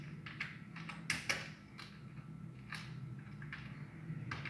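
Fingers tap on a computer keyboard in irregular bursts, soft clicks with a few sharper key strikes, close up over a faint background hum and no speech.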